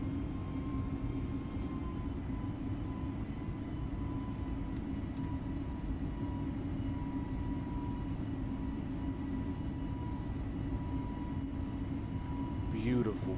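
An Airbus A320 takes off on a Miami to Havana flight, its engines making a steady, loud droning roar heard from on board while a person talks.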